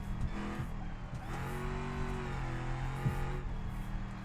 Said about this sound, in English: And the more angle you get in the drift, the more traction it breaks.